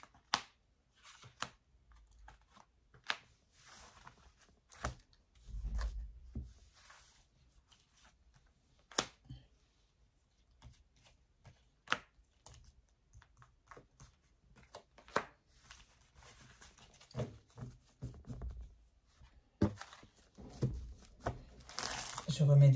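Oracle cards being shuffled and laid out near an amethyst, giving a run of soft crinkling card slaps and taps that arrive in irregular bursts, quiet and close, with pauses between them.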